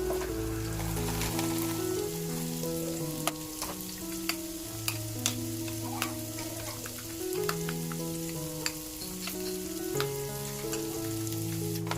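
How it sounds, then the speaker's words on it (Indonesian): Tofu sautés with spring onion stalks in a pan, giving a steady, close sizzle with stirring scrapes and a few sharp clinks of utensil on pan, and no talking. "Nah ini di tumisan tahunya saya tambahkan juga batang daun bawang, kemudian dimasak dulu ya Mam, ditumis-tumis sampai harum"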